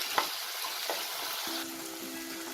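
Chopped tomato frying in a pan with ginger and garlic, a steady soft sizzle with a couple of brief crackles and a faint stirring scrape near the end.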